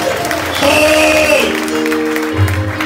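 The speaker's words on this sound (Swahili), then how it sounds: "Patia Bwana makofi mazuri." A church congregation at a mission day service claps together in a loud, sustained burst of applause, with some tonal voices or music sounding faintly underneath.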